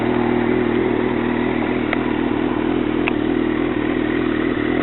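A 1996 Yamaha YZF600 custom streetfighter sportbike making 95 rear-wheel horsepower runs at a steady idle, a close, even engine drone with a couple of faint metallic clicks.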